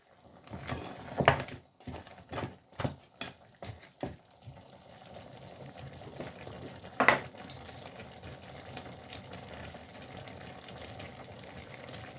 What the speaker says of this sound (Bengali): এখন আমি একটা নাড়া দিব